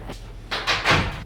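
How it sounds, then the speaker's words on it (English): An indoor door being shut at home, a few soft rustling and scraping swishes building to a muffled closing thud, near and moderately loud. "I'm also gonna close the door."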